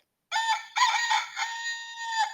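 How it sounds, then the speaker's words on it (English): A rooster crows clearly and close by, one drawn-out cock-a-doodle-doo in a few bright, nasal stretches against silence, with no talk over it. "The rooster wakes the farmer in the morning."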